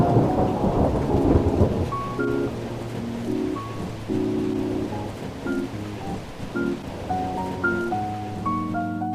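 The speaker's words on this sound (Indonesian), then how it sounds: "uap air tersebut akan dikeluarkan dalam bentuk hujan" Rain and rolling thunder from a stop-motion animation about the water cycle, heard as a steady, fairly loud wash of rainfall with low rumbles, with plain musical tones layered over it throughout.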